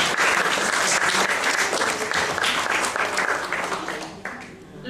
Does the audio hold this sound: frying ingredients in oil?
no